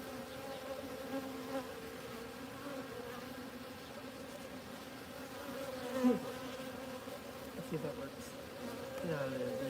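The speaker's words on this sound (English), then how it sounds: "All these bees around here just drive me crazy." Honeybees buzz steadily around an open hive during a honey harvest, a dense continuous drone of many insects close by, with faint human sounds beneath and brief louder passes near the middle.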